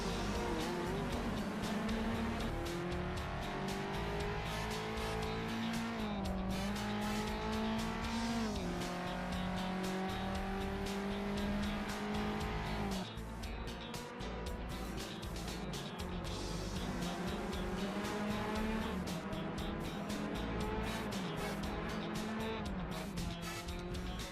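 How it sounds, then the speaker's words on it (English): Classic cars race through the streets of Paris in the racing game Assetto Corsa: loud, continuous engine roar that rises and falls through gear changes, with tire squeal and cars passing close by. "So just enjoy this racing around the Paris streets."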